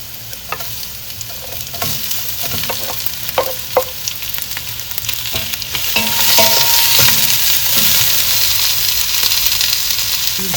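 Ginger and onion sizzle and fry in hot oil with browned garlic while a spoon stirs them, steady frying hiss with scattered clicks of the utensil, growing louder and denser partway through as the pan heats.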